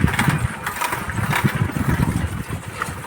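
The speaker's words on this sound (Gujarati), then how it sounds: "અમારા બુલેટને ઓઇલ હજી લાગ્યું નહીં એટલે કચડ કચડ બોલે છે." A Bullet motorcycle engine runs low on oil, knocking with an uneven, rattling mid-pitched putter close by, pulsing rhythmically and steadily.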